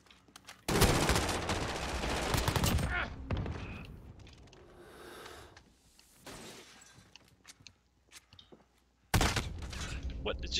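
Call of Duty: Modern Warfare gunfire comes in loud, dense automatic bursts, one long volley at the start and another at the end, with quieter game noise and scattered clanks in between.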